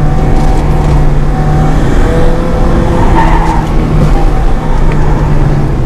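A Honda Integra Type R on everyday road tyres takes a corner hard, its engine droning steadily and loud throughout with a thin tyre squeal rising briefly midway through the bend.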